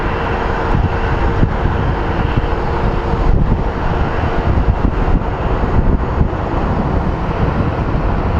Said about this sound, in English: And it is getting windy